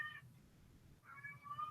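A house cat gives two faint meows, one brief and one longer, separated by a short pause over a quiet room background.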